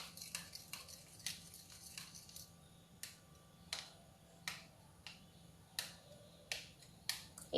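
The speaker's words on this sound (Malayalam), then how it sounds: "അതുകൊണ്ടാണ് ഞാനിത് നേരിട്ട് സ്പൂൺ കൊണ്ട് തന്നെ മിക്സ് ചെയ്ത് കൊടുക്കുന്നത്" A spoon working homemade aloe vera gel cream by hand, giving quiet, regular sticky clicks and squelches about every half second to second, close and soft with no voices.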